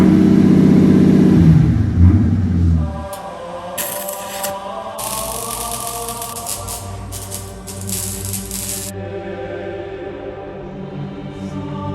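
A Mercedes W220 S600 V12 idles with a low, steady burble close by, after a louder rumbling opening that lasts a few seconds. A faint, ongoing mechanical rustle sits above the engine tone.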